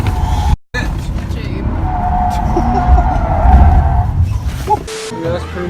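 A Ford Edge slides sideways, its tires skidding and squealing in a long, loud smear under engine noise, with people talking close by.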